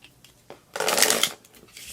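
Tarot cards shuffled by hand, a single quick riffle burst of crisp papery flutter lasting about half a second, close and clear, framed by a few soft taps and handling sounds.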